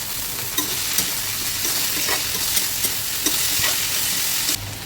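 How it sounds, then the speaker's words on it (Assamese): Tomatoes and long beans fry in a pan with a loud, constant sizzle as a spoon repeatedly scrapes and stirs through them, the hiss dropping slightly at the very end; no talking. "ইয়াতে এতিয়া বিলাহীখিনি দি দিছোঁ। এতিয়া ভালদৰে লৰাই দিম"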